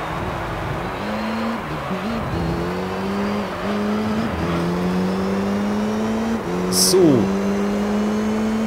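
A race car engine in Gran Turismo 3 holds high revs and bounces off the rev limiter, giving a loud, steady buzzing drone with brief dips and a short squeal near the end. A voice speaks briefly.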